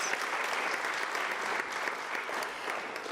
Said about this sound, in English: I think they need a very big round of applause for that